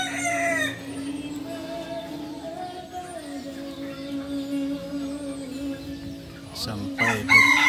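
A kukuak balenggek ornamental rooster from Solok, West Sumatra, crows close by in one long, loud, wavering call, followed by short clucking at the end.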